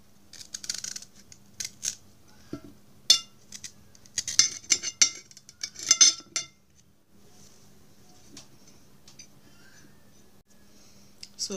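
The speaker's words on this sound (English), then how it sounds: "After slicing the ginger, you cut it into small pieces, like into little small tiny pieces." Knife chopping sliced ginger into tiny pieces: bursts of quick, crisp close-up cuts on a board, coming in clusters with short pauses, with faint clinks between them and no talking.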